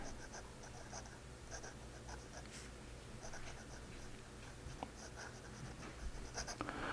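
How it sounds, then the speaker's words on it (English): A Diplomat fountain pen nib scratches softly across paper in strokes running in all directions, including reverse writing, close and quiet, with a faint voice at times. "smooth nibs. All directions. Reverse writing."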